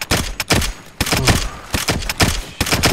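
Shotguns fire in a video game as three players hold a ward, blasts coming in quick irregular bursts, loud and close, one after another with brief gaps between them.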